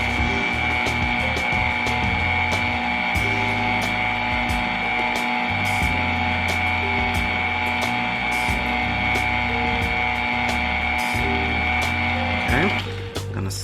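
Electric stand mixer beating pound cake batter with flour and cream cheese, a steady loud motor whine with a high tonal hum running continuously for most of the time before cutting off near the end.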